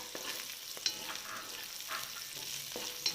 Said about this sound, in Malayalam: ഇത് ഉള്ളി ഏകദേശം ഒന്ന് ഫ്രൈ ആയിട്ടുണ്ട്.